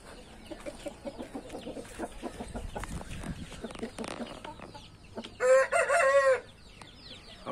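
Laying hens cluck softly in a steady run of short calls, then a louder drawn-out squawking cackle rises briefly before fading back.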